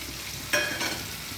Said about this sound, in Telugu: టమాటాలు కూడా వేస్తున్నానండి